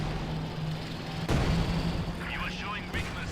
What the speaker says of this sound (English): More Zis gunshots there.